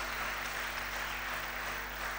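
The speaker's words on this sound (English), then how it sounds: "A big round of applause for Dr." Applause at a dental college annual day as the dean is introduced, a steady even wash of many hands clapping, moderately loud over a low hall hum, no talking.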